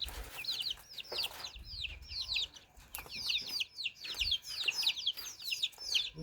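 Chickens and small chicks at a farmstead in Uzbekistan, with rapid repeated high peeping chirps from the chicks over occasional low clucks and faint thumps, fairly quiet and continuous, no talk.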